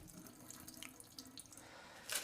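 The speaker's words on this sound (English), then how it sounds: "let most of the water drain out" Water trickles and splashes as it drains from the holes of a sprouter tray holding soaked seeds, a steady close runoff that turns into a brighter, louder splash at the very end.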